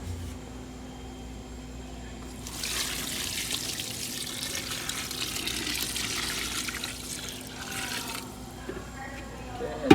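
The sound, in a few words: pouring water into cold brew coffee container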